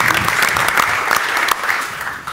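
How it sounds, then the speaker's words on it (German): An audience at a cultural policy dialogue event applauds, brisk close clapping from many people that continues steadily for over two seconds. "Ich finde, du hast auch noch mal einen Applaus verdient"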